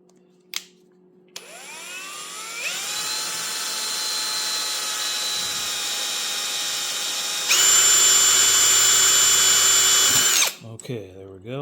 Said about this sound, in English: Drill the hole.